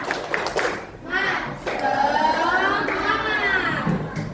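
Schoolchildren in a classroom clap together in a rhythmic pattern, the claps mixed with loud group chanting voices throughout.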